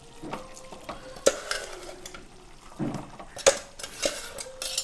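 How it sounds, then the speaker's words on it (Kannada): Ground masala being stirred into cooked chicken in a pan for chicken gasi sukka, soft wet scraping and stirring with several sharp spoon clinks against the metal pan, close and fairly quiet, no talk. "ಒಳ್ಳೆ ಮಾಡಿ ಮಸಾಲೆಯನ್ನು ಮಿಕ್ಸ್ ಮಾಡಬೇಕು"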